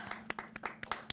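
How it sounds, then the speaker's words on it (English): Scattered hand claps in a small audience at a late-night comedy show, a thin handful of sharp individual claps spaced unevenly, faint and close, with a low steady hum beneath. "Give everybody's outfits a round of applause in here"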